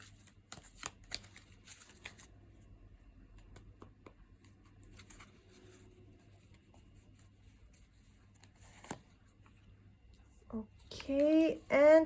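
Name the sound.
shuffling oracle cards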